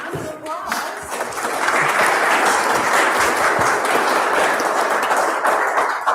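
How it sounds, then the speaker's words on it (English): Sustained audience applause after a question-and-answer session at a history talk, a dense steady wash of many hands clapping that builds in the first second and holds loud and even throughout. "Let's have another round of applause."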